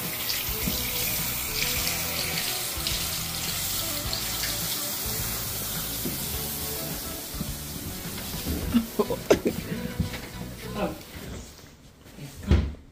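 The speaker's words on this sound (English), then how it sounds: "I'm just washing my hands so I don't keep it in water." Tap water runs steadily into a small shared-bathroom sink during handwashing, a continuous splashing hiss with cupboard or drawer knocks near the end and a person speaking over it.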